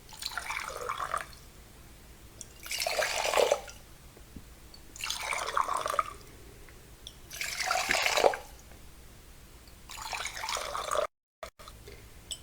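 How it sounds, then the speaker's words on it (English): Water poured back and forth between two mugs to cool it for tea, five separate splashing pours of about a second each, evenly spaced with short pauses between, close and moderately loud. "we're going to take our water that's being cooled and take the second vessel and just pour it"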